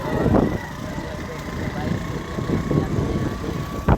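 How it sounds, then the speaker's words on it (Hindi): A motorcycle hums steadily with a low engine drone as it is ridden through a cotton field. People talk loudly over the engine throughout. "ये बाइक चला रहा है"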